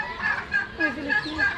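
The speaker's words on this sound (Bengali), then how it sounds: "এগুলো কি মোরগ দেখছো?" Chickens at Chittagong Zoo cluck and call in short, repeated bursts close by, with people's voices mixed in with the birds.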